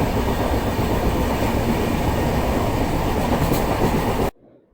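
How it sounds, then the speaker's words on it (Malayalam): Train rolling along rails, a loud continuous rumble with rattling wagons and a brief squeal, heard from inside before cutting off abruptly. "അങ്ങനെ ട്രെയിൻ യാത്രയും കഴിഞ്ഞു."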